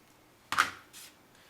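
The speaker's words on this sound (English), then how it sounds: "I'm just going to cut this end straight" Scissors snip the end of a ribbon with one short, sharp cut, followed by a fainter brief rustle, close and quiet with no talk.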